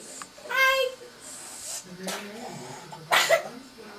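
A small child gives a few short coughs and throat-clearing noises, close by, with quiet babbling between them.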